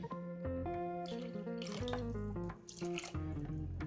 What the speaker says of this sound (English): pour a little more in there, you think?